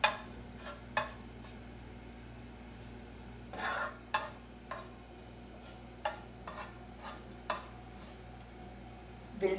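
Cumin seeds roast in a pan for jeera rice, giving a soft, steady sizzle while a spoon stirs and scrapes against the pan in irregular bursts, with a faint hum beneath.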